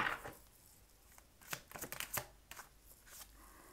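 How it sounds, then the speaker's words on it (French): Tarot cards being drawn and handled from a deck, giving a few close soft papery slides and flicks in quick bursts against a quiet room. "je vais tirer 3 cartes du The Wandering Tarot"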